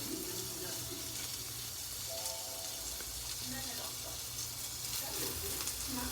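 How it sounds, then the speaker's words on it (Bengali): Paneer cubes with small pieces of green capsicum sizzle in a pan, a steady, close frying hiss running throughout, with a voice talking faintly over it. "ফ্রাই করে নিচ্ছি ভালো করে।"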